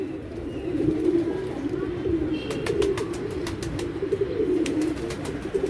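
Pigeons coo steadily in a low, throaty murmur, with several birds overlapping close by and occasional sharp clicks or taps on top.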